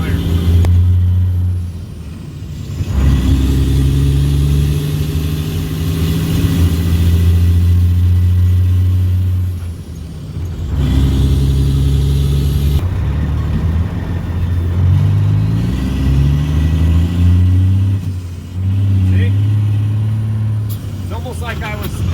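An '03 International 2574 truck engine runs with a misfire, loud and close, its rumble surging and dropping in uneven waves with brief lulls, a voice speaking over it at times.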